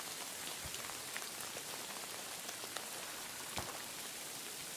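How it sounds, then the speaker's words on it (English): Rain patters softly in the video game Kingdom Come Deliverance 2, a faint, steady hiss with scattered individual drops tapping on surfaces. "It's raining outside."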